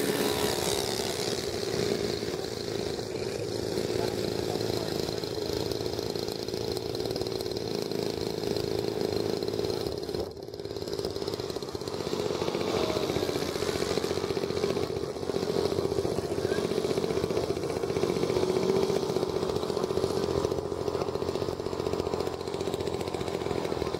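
A Durafly T-28 Trojan RC model airplane on a runway gives a steady, faint motor drone that holds at an even pitch for a long stretch, distant and unchanging.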